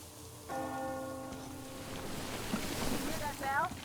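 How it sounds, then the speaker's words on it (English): A bell ringing in Metro Exodus, a single clear tolling strike that rings out and decays, followed by ambient noise and a brief high chirp. "Hear that bell?"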